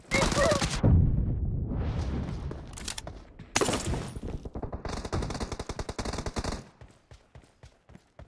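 Gunfire in a PUBG team deathmatch: loud bursts of rapid automatic shots and single cracks, with pauses between volleys and some game voices mixed in.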